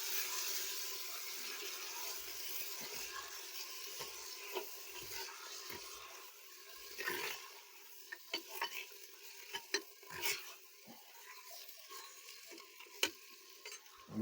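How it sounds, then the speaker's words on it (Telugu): Biryani ingredients being stirred in a pot, with soft scraping and occasional light clinks of the spoon over a faint, steady sizzle, quiet and close, with no voices. "దీన్ని ఇప్పుడు ఒకసారి బాగా కలుపుకోవాలి."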